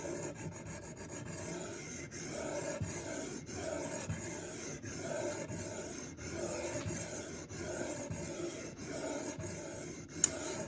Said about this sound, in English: if you are sharpening your Sabenza on a fixed angle system